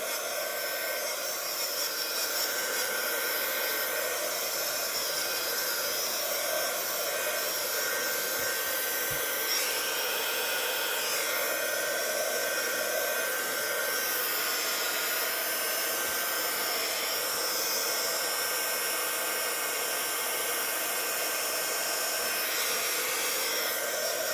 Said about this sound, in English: might get the heat gun and give it a bit of a dry